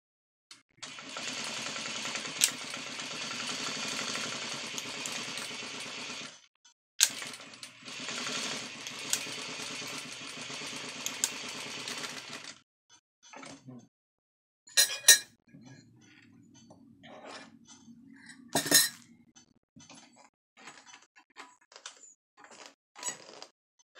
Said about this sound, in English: In this part, I am not going to be talking, but I'll just be sewing.